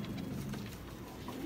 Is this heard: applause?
no